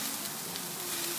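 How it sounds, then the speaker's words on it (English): Thin asparagus spears laid across the top of a tiny barbecue grill sizzle in a steady, dense, close hiss that holds evenly throughout without talking. "I'm actually just going to spread them across the top of my grill because they are thin"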